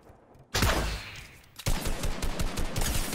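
Gunfire in the video game Fortnite: a sharp loud burst, then after a brief pause a dense, sustained rattle of rapid shots, with no talking.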